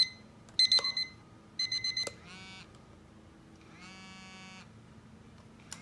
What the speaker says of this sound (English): The loud setting is pretty loud,